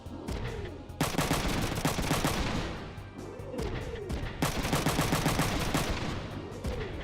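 Enemy gunfire hitting the player in Front Mission 3: rapid machine-gun-like bursts of impacts in two long volleys, loud and dense, each followed by a repeated swooping effect, with no talk.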